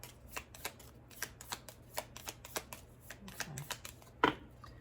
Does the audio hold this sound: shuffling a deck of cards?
yes